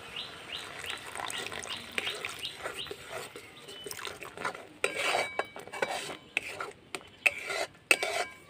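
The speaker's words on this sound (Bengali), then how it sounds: "তাল আর দুধ তো ফুটছে" Palm pulp and milk bubbling in a pan while a spoon scrapes and clinks against the metal in irregular strokes, with some sharper knocks toward the end.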